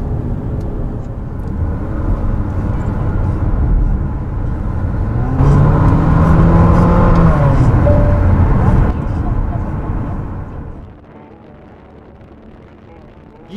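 A 2019 Infiniti QX50 turbo engine revs hard, its pitch climbing through the gears and then dropping away, before the noise cuts to a low, quiet hum.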